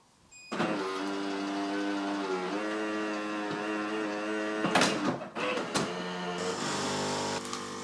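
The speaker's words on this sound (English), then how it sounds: "when you first turn the machine on, it goes through system rinsing" A Siemens espresso machine runs its start-up system rinse, a steady mechanical pump hum that shifts pitch partway through, with brief gurgling spurts and clicks near the end, close and moderately loud.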